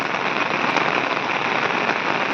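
Heavy rain pours down steadily over a farm field in Konkan where traditional farming is under way, a loud, dense, unbroken hiss of drops striking the ground and surfaces, close and continuous throughout.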